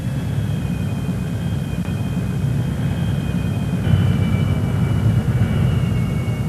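Messerschmitt Me 262 jet aircraft taxiing, a broad steady jet roar with low rumble and faint high whine, swelling slightly partway through.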